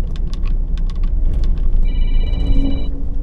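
A phone rings inside a cafe and kitchen hangout, a short electronic ringtone sounding briefly amid busy room chatter and background noise.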